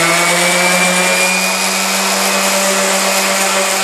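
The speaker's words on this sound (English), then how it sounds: "I basically did the whole handle just using sander, the belt sander." A belt sander grinds steadily on a pecan hammer handle, a loud continuous motor whine with abrasive hiss that holds even throughout, close up and without talk.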